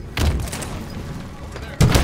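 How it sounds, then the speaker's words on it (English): A grenade going off in a multiplayer video game match, two heavy booming blasts roughly a second and a half apart, with players talking over the noise. "Watch out. Grenade."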